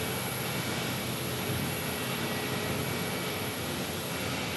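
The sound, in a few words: JetBlue airliner taxiing at Sky Harbor Airport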